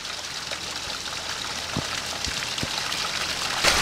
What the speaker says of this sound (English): That's water coming down from the wheel right there.